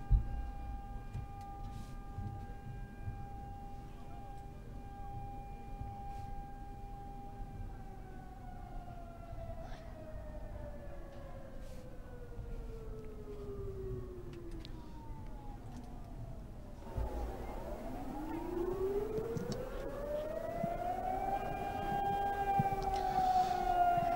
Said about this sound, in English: pretty soon we will have an evacuation drill. Okay, now we have already heard the siren.